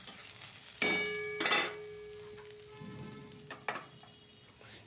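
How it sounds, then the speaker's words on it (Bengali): Chopped garlic and onion fry in a pan for a chola shak vorta, a steady soft sizzle broken by two loud stirring bursts early on and another scrape later, with no talking. "রসুনটা একটু কিন্তু ভাজা ভাজা হয়ে যাবে দেখুন ভাজা ভাজা হয়ে গেছে তখন পেঁয়াজটাকে দেব"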